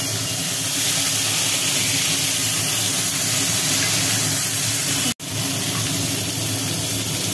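Drumstick, potato and ridge gourd sizzle in a frying pan with a loud, steady hiss of oil, unbroken except for a split-second cut near the end, and no voices.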